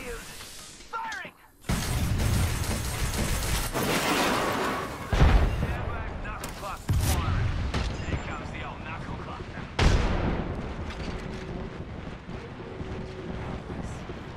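Heavy gunfire and explosions in the video game Apex Legends, loud bursts of shots and booms layered one after another in dense, close volleys, with voices talking over the din.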